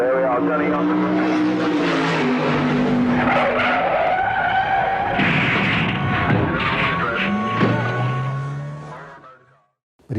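Tyres screech in a long skid on a TV race course as a car loses control in a driver's big crash, the loud squeal rising under an interviewer's ongoing talk before cutting to sudden quiet.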